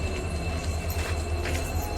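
Goods train rolling past near a railway line, a steady low rumble of wagons with faint wheel and rail noise running continuously throughout.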